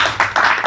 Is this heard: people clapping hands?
yes